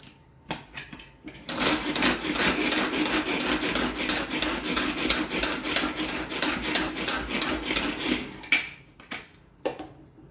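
A knife minces ingredients on a cutting board during simple home baking, a fast, dense run of chopping strokes that holds steady for several seconds before a few isolated taps, close and with no talk.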